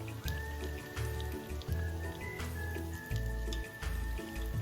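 Small pieces of tempeh deep-frying in hot oil until golden, a dense crackling bubbling spread steadily through the whole stretch, close and moderately loud, with sharper pops and spattering bursts scattered on top.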